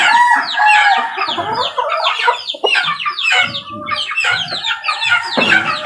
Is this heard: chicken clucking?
yes